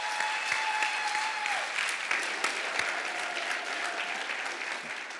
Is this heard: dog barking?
no